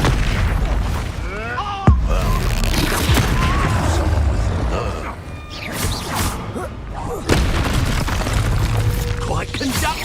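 Expulso spell blasts in Hogwarts Legacy: heavy booms and thuds land amid chaotic combat noise, with two sharp peaks standing out, while a voice speaks over the action.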